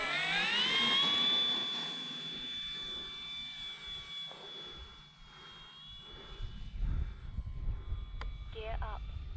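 A Dynam Hawker Hurricane RC model plane with newly fixed landing gear flies overhead, its electric motor giving a loud, steady whine that shifts in pitch and fades, with talk and wind noise toward the end.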